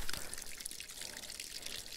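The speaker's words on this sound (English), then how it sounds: "I will fill them up with water again." Water splashes and pours into a tub used for washing a coyote pelt in a fur shed, a brief steady trickling pour heard alone at moderate volume.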